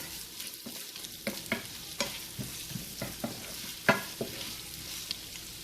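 Uncooked potato and carrot stirred into a mutton stew pot, with soft frying under repeated scraping and knocking of a spoon against the pot, moderately close and fairly quiet.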